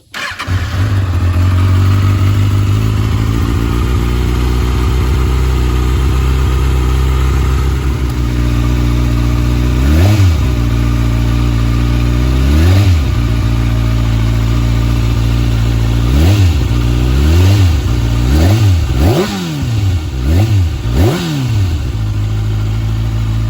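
A Kawasaki ZX-6R with an aftermarket exhaust starts up and idles loudly and close by, then gives a run of sharp throttle blips that rise and fall, coming faster toward the end.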